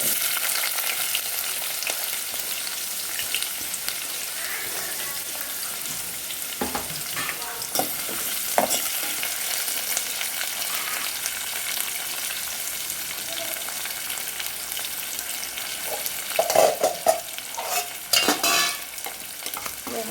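Large onions sauté in oil in a biryani pot, a constant soft sizzle broken by scraping stirs that grow louder and more frequent toward the end, close and without speech.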